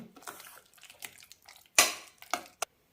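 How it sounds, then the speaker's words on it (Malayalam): Cooked jackfruit is lightly mashed in a pot for a Kerala-style curry. Soft, scattered scraping pushes lead into a loud metal clank and a couple of sharper knocks near the end. "ചെറുതായി ഒന്ന് ഉടച്ചു കൊടുക്കാം"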